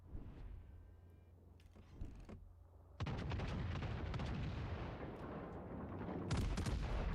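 Heavy naval gunfire in a World of Warships ranked battle at tier six, with a battleship broadside: booming, rumbling salvos that start after a quieter stretch, the loudest coming at about three seconds and again near the end.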